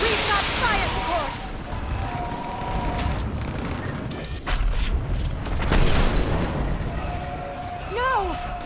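Heavy booms of fire support explosions rumble through a battle in Mass Effect 3, a dense, continuous low roar with bursts swelling near the middle, while voices call out over the din.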